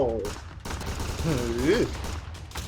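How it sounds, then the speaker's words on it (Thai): Gunshots in a Roblox shooting game crack in a few quick bursts, fairly faint and mixed with a busy game background and bits of voice. "เสียงปืนเข้าหูดังมาก"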